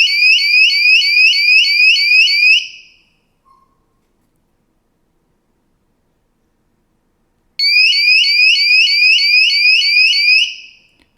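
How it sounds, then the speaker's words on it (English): A Tapo T300 water leak detector alarm, a loud, rapidly pulsing electronic siren, sounds for over two seconds, stops for several seconds of silence, then sounds again at the same pitch. "you can hear the siren go off and how quickly it detects the water as well"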